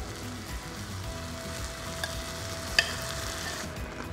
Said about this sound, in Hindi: अब इसमें ये चिकन जो हमने मैरिनेट किया था अब इसे भूनना शुरू करेंगे